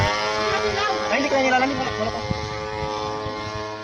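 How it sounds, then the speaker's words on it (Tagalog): A homemade airplane built from a grass cutter engine comes in to land, its small motor buzzing and droning as the pitch shifts, with people talking over it. "At ito na nga ang bahagi ng paglapag ng kanyang eroplano."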